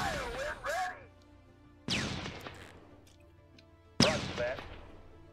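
Artillery bombard ranged attacks in the strategy game Shadow Empire, three sharp booming blasts a couple of seconds apart, each fading with a rumbling tail, alongside sweeping whistle-like effects.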